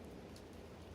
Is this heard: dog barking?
no